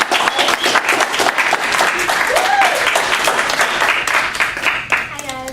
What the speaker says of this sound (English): we just want to give you a round of applause